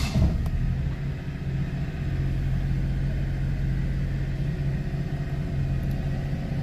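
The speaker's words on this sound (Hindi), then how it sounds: "जो गाड़ी का स्टार्टिंग साउंड है वो कुछ इस तरह से आता है" A 2007 Daihatsu Cuore CX EcoMatic small car engine catches with a quick start burst, then settles into a steady, low rumbling idle heard close and alone for several seconds.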